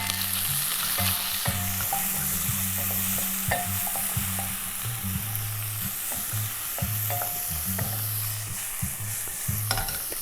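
Sausage frying in a hot pan for a quick pasta dinner, a steady close sizzle with repeated stirring and scraping knocks throughout, no one talking.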